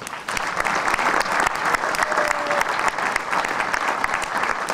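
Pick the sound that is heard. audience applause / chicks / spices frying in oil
audience applause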